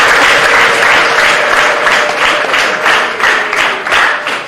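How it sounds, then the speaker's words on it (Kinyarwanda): A wedding audience claps loudly and continuously, the dense applause swelling in rhythmic waves that sometimes fall into unison beats. "Ni ukuri ntimwamumbera amashyi."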